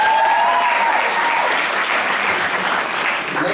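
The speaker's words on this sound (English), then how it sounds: "Can we give one more round of applause for Jamila Biggs?" Steady, dense applause from an audience at a student poetry reading fills the whole stretch, loud and sustained with a faint whistle near the start.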